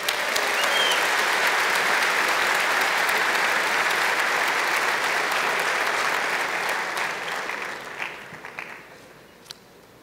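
A large audience at a men's church convention bursts into sustained applause, a dense roar of clapping that holds strong for several seconds, then tapers off into scattered claps.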